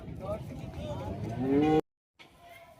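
A large-bodied cow at Choubaria cattle market lets out a long, rising moo that swells loudly before cutting off abruptly, then quieter background noise resumes after a short silence.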